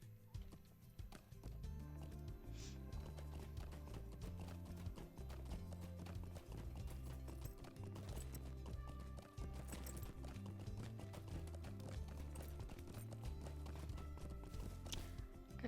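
Rapid drumming hoofbeats of galloping war-steeds in the video game The Lord of the Rings Online under a loud, continuous musical score, steady rhythm throughout.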